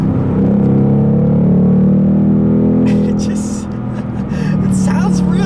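A 2019 Ford Mustang Bullitt engine and exhaust rev hard in a loud, sustained roar with shifting pitch, easing briefly before climbing again.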